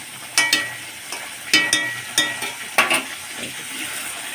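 Garam masala and ghee sizzle in a pan of potol korma, a Bengali pointed gourd curry, with a steady fry under spaced clinks and scrapes of stirring.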